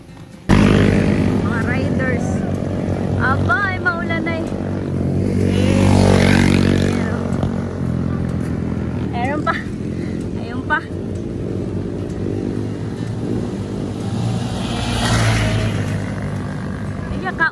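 Motorcycles ride past on a rainy village road, engines rising and fading as several pass in turn, with people talking nearby over the traffic.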